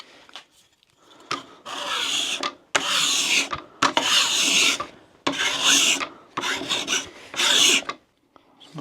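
A hand scraper smoothing hardwood in repeated rasping strokes, about seven close, loud scrapes separated by short pauses, with no talking.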